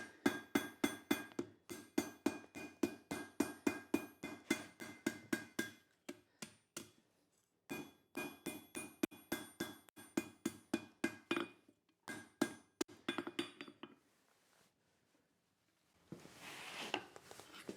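Rapid, rhythmic blows from a big, bulky hammer forging metal ring out in long bursts, with brief pauses between runs and sharp metallic strikes up close.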